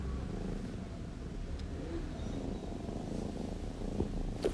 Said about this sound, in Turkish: Hele gurultusu, gel gel kurban olurum seni yaradana.